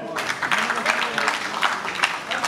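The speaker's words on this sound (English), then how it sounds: "So welcome Harshvardhan, a big clap for him." An audience at a product launch event applauds steadily, many hands clapping in a dense, continuous patter throughout.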